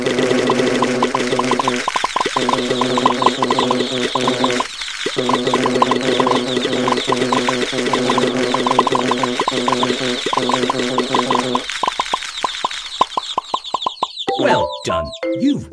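Cartoon hen clucking repeatedly in the Peppa Pig game Happy Mrs. Chicken, with a bouncy game music loop running underneath, a couple of short pauses, and a burst of quick pops and chirpy effects near the end.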